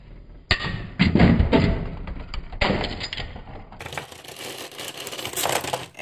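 Beyblade Metal Masters spinning tops, Ray Striker and Flame Sagittario, launch into a stadium and clash with loud knocks, thuds and rattling scrapes, close by, then a steady whirring grind as they keep spinning.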